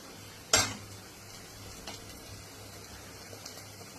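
Carrots tossed into a pan and stir-fried for Maggi hakka noodles, with a sharp clatter as they land, then quiet sizzling and occasional scrapes of a spatula, close and fairly soft.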